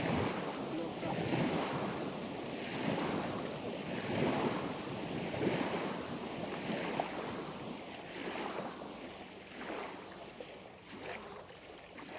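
Waves from a passing boat's wake wash against the shore of a river on a fishing trip, a steady close rushing and lapping with wind noise on the microphone, no talk.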